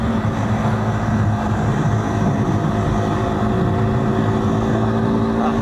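A KTM 390 Duke single-cylinder motorcycle engine idles roughly up close, a continuous low, uneven drone with no revving.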